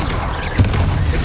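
Bombarda explosion spell cast in Hogwarts Legacy, a loud booming blast with a sharp hit partway through and dense rumbling noise throughout the short moment.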